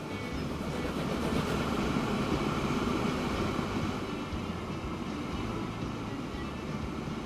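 A new train running on rails in the video game Transport Fever 2, a steady dense rumble and clatter that rolls on without a break.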